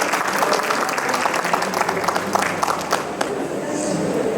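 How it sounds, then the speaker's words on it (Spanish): An audience at a book presentation during the FilBo 2024 book fair applauds its authors, a steady wash of clapping hands across the room with faint voices mixed in. "y un aplauso para nuestros autores."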